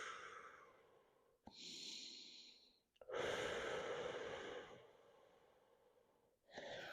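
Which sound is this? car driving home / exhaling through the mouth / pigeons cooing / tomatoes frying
exhaling through the mouth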